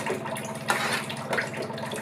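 Water runs steadily from a newly fitted household water purifier tap, a continuous close splashing flow that swells slightly in two spots, with no voices.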